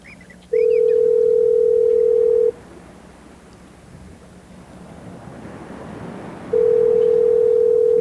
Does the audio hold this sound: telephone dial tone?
yes